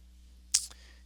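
A single crisp computer mouse click registers close up against a quiet room hum, followed by a fainter second tick.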